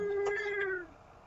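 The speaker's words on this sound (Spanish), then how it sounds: "Tengo aquí un gato enojado." An angry cat gives a single drawn-out meow, close and moderately loud, sliding downward in pitch before trailing off into quiet room tone.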